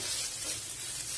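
Sliced ridge gourd sautés in a pan, giving a brief, continuous soft sizzle and frying hiss with no voices.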